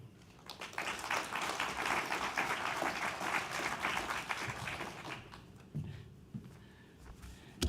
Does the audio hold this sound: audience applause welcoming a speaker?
yes